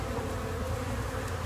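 Honey bees from a nucleus colony being installed into a hive with drawn-out frames, making a steady, continuous buzzing drone up close, with no talking.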